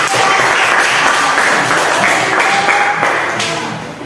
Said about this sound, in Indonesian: sekarang kita beri tepuk tangan